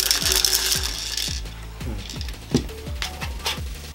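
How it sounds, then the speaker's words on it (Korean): A custom light stick with a few small pieces inside is shaken, producing quick rattling clicks in an uneven rhythm, close and fairly loud, with no talking. "흔들면 너무 시끄럽진 않게 일단 좀 몇 개만 넣어서 소리를 하게 체크를 해볼게요"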